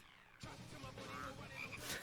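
A dense chorus of frogs croaking from an anime fight scene, a continuous rattling din that starts abruptly and fills the short stretch at moderate level.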